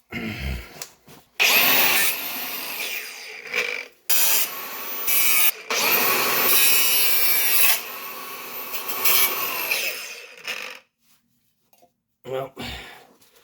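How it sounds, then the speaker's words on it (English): Power tool grinding the top off a rounded bolt during prep for a 6-speed transmission swap on a WRX wagon race car, harsh loud grinding bursts broken by short pauses, with some speech. "Well, I guess all we can do is just grind the top of that off."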